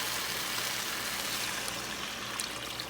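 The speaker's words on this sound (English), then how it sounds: "Then you put in your first cup of water." Water poured into a hot pan of rice cooking in tomato sauce, a soft, steady rushing trickle with faint bubbling, quiet and continuous throughout with no voices.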